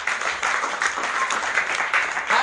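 A church congregation claps for Jesus in a lively, uneven burst of many hands, fairly close and continuous, with no speech over it.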